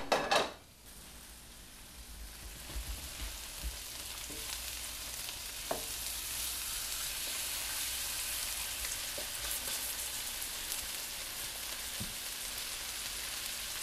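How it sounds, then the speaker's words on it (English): Beef searing in a hot stainless steel pan, a steady broadband sizzle that holds loud and even throughout with a few faint clicks and scrapes from a utensil, no voices. "You'll hear it when the beef sears."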